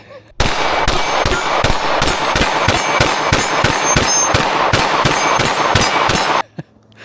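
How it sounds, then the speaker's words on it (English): Rapid string of pistol shots from a Glock 45 MOS fitted with a DPM Systems recoil setup, firing 124 grain rounds at a steel target in a fast mag dump, about twenty loud evenly spaced cracks with ringing steel hits, then silence. "I wasn't just able to shoot really fast and mag dump because I was able to find my dot on some part of the steel target"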